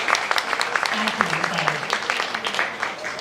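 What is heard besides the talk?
audience applause at a keynote talk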